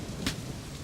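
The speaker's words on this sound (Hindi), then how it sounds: "बारिश आ गई है" Rain falls as a steady broadband hiss in a brief stretch, fairly close and continuous, with no voices.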